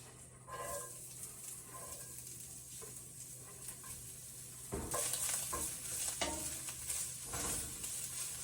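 Onion, carrot pulp, celery and ginger mirepoix sizzling and being stirred in a pan, a steady frying hiss with scraping and shuffling bursts partway through, close and moderately loud.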